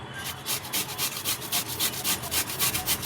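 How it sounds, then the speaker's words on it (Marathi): Cucumbers being grated by hand on a kitchen grater give a steady rhythmic rasping, quick back-and-forth strokes close to the microphone with no talking. "आता मी सर्व काकडी दोन्ही काकडी मी किसणीने किसून घेते"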